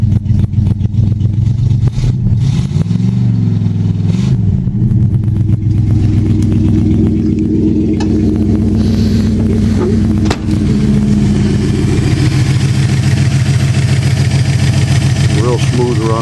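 A 1962 Oldsmobile with a 394 high-compression V8 runs loud and close, a deep steady idle with a brief rev early on. The engine keeps rumbling evenly throughout.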